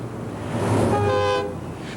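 A train horn toots on a Vancouver Island railway line, one sustained blast sounding over a steady low rumble of rolling rail noise at moderate distance.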